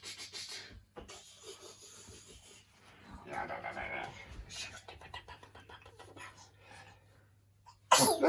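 A baby boy sneezes once, sharp and close, after several seconds of soft rustling and shifting indoors.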